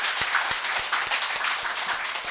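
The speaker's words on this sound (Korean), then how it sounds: "우리 큰 박수로 하나님께 영광 올리겠습니다" A church congregation breaks into dense, sustained applause during a festival service, many hands clapping at once in a bright, continuous roar with no voices over it.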